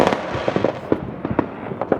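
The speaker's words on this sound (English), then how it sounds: "The fireworks are plenty, and a little bit of snowfall" Fireworks burst repeatedly during a snowy New Year's Eve night, a steady run of sharp cracks and booms at varying distances.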